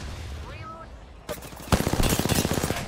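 Rapid bursts of gunfire from a ranked shooter video game, starting with a sharp shot and building into a loud sustained volley of repeated cracks, with faint game sounds before it.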